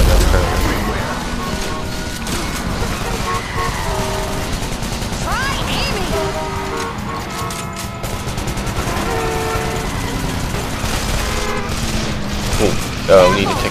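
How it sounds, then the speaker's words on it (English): Sustained enemy gunfire on a highway in Call of Juarez The Cartel, dense bursts and booms under a continuous layer of game music and voices, loud throughout with a sharp hit near the end. "We are now at a highway, and people are shooting at us right now currently."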